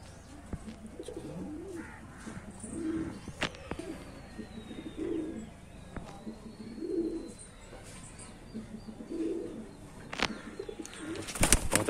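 Lalban breeding pigeons coo softly in a repeating pattern, several low rolling calls spaced every couple of seconds, with faint background noise and occasional clicks.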